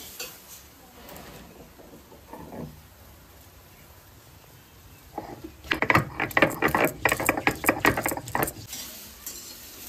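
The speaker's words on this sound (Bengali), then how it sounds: "এবার টমেটোটা দিয়ে দেবো। এবার আস্তে আস্তে কষানো হোক" Tomatoes stir-frying in oil in a pan start with faint scrapes, then a louder burst of rhythmic spoon-on-pan stirring and sizzle in the second half, with no voices.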